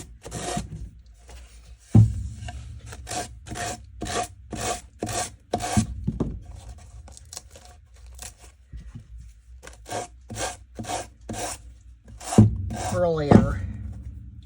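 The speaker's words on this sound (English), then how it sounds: "I am going to sand off the excess paper, and I'm just using this finger sander" A handheld finger sander works excess paper off a thrift-flipped piece in a steady series of short, rhythmic scraping strokes, close and clear, with a couple of louder bumps and pauses between runs.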